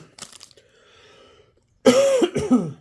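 A couple of sharp, loud coughs close to the microphone after a quiet stretch of soft breathing and faint background noise.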